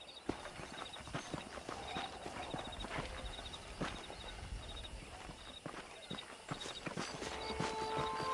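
Horse hooves clip-clop at a walking pace in the Red Dead Redemption video game, a steady rhythmic series of hollow clops over a low outdoor ambience, moderately close.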